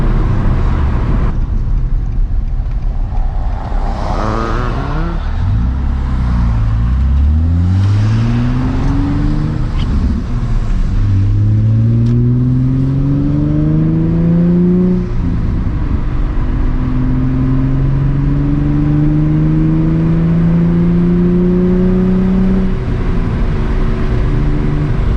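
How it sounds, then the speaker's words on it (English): A Nissan 350Z with a muffler delete drives along wet backroads, its exhaust burbling loud and close as the revs climb and fall through repeated rising sweeps, with no talk over it. "This car only has a muffler delete and it freaking burbles, it pops sometimes."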